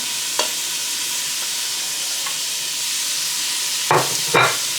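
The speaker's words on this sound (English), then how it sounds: "after sauteing our onions for a few minutes, I'm going to add my garlic to that" Onions, garlic and ginger sautéing in a pan, a low, even sizzle with a few sharp clatters of a spoon against the pan near the end, no speech.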